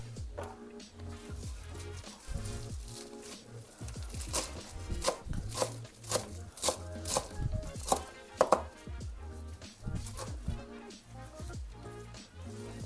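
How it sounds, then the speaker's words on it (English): Fresh parsley being chopped on a cutting board with a knife, a close series of quick, irregular thuds and taps continuing throughout, no talk. "I'm gonna chop those parsley."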